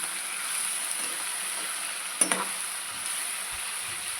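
Ivy gourd (kovakkai) frying in oil with a constant quiet sizzle, and one brief clattering stir of the spatula partway through.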